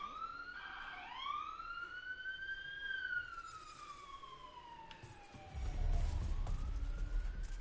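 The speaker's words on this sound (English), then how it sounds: "cop cars, ambulances, and fire trucks always gotta blur their sirens or their horns" Emergency vehicle siren wailing at night, a rising and falling tone that sweeps up and down over several seconds, fairly distant, ending in a low rumble of passing traffic; no talking.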